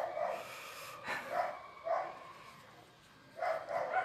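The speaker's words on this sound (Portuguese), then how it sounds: "Senão ela vai ficar latindo aí." A dog barking outside a house, several sharp barks in irregular bursts at moderate distance, with short pauses between them.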